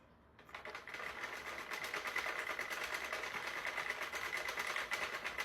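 Sentro knitting machine cranked slowly, starting after a brief quiet moment with a fast, regular mechanical clatter of needles and gears that stays even and close, with no voices.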